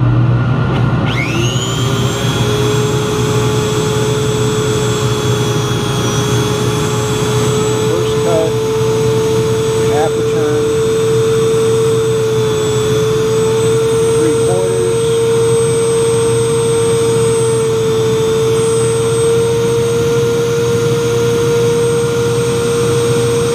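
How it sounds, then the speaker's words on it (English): Dust collector in a fish-bone sectioning lab, a loud, steady whining roar with a sustained tone that starts up at the beginning and keeps running throughout, with a few faint clicks beneath it. "Turn on the dust collector."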